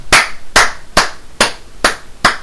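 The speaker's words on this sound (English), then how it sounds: "I had to give you a round of applause for that" Six sharp, evenly spaced hand claps from a single person, close and loud, with short silent gaps between them and no talking.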